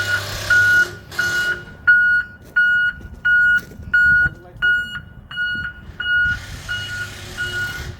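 Backup alarm on a bus sounding during a pre-trip inspection: a steady run of about seven evenly spaced, loud reversing beeps, close by, with engine idle beneath.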